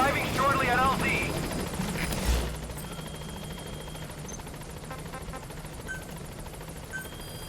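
Pequod helicopter in Metal Gear Solid V arriving at the landing zone, a continuous rotor drone under game radio voices and a spoken line early on, the rotor noise steady and moderately close throughout.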